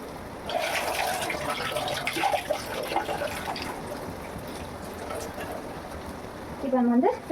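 Tap water runs and splashes as ingredients are washed in a home kitchen, a continuous moderate trickle throughout with a brief louder squeak or scrape near the end.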